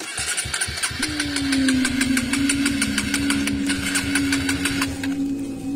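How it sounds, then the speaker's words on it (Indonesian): A suddenly faulty motorcycle engine idles loudly nearby with a rapid, knocking putter, steady throughout with a whining tone over the chugging. "tiba-tiba motor aku macet"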